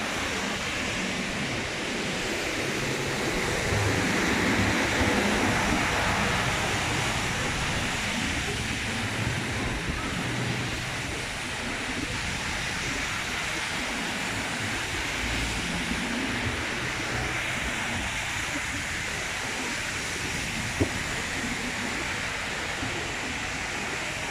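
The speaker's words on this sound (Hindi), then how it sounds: "इतना जल्दी कितना पानी भर गया रोड में, कितना तेज बारिश है।" Heavy rain pours down in Saudi Arabia as water floods a road, making a dense, constant hiss and rush that swells slightly early on and then holds steady for the whole stretch.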